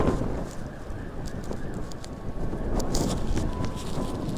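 Strong, steady wind from a heavy storm in London roars close to the microphone, a broad, continuous buffeting rush with gusts swelling toward the end.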